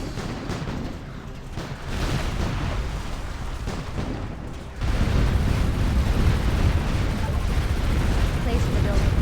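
In a video game, a building is blown apart amid a dense, loud roar of explosions and gunfire that swells partway through. A voice speaks over the din.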